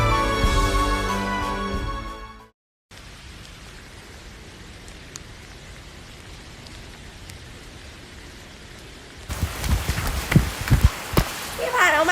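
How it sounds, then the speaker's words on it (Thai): Steady rain falls with a soft, even patter for several seconds, bracketed by music at the start and sharper sounds near the end. "ฝนก็ตกอากาศก็ไม่ดี"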